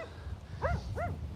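Dogs out on a public walk in Scotland give two short, rising-and-falling barks or yips a little way off, one after the other, over steady outdoor background noise.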